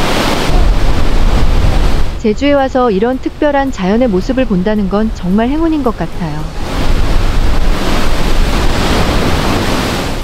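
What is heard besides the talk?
waves crashing against basalt columns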